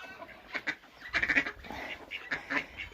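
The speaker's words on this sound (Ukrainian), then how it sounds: "Зараз ближче покажу вам качок." Wild ducks quacking on a Ukrainian village farmyard where they live among domestic ducks and chickens, several close, irregular quacks in short clusters with quiet gaps between them and no talk.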